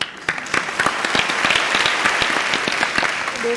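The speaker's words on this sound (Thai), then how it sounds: "ขอเสียงปรบมือต้อนรับ" Lively audience applause welcomes a table tennis coach onto a studio game show, a dense burst of clapping with sharp individual claps standing out, loud and close.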